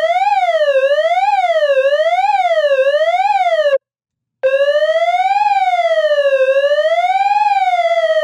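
An electronic siren tone synthesized in Vital sweeps up and down in a steady wail, cuts off briefly, then resumes with slower, wider rises and falls.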